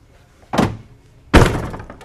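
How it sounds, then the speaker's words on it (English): Two sharp thunks as latches release on a bike rack mounted to the back door of a 2021 Coachmen Galleria 24T RV, the second heavier and louder as the rack lowers, close by. "With this bike rack, it has two latches, one on each side that has to be opened. And then it lays down."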